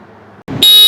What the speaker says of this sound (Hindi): तो कुछ इस तरीके का इस बाइक का हॉर्न था।